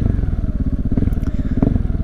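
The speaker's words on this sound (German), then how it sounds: "ich hoffe, dass der Sound wieder über die GoPro einigermaßen rüberkommt. Weil dieser Auspuff so pervers ist" Supermoto motorcycle exhaust recorded while riding, a loud, close, throbbing engine beat with rapid even pulses and light mechanical clatter throughout.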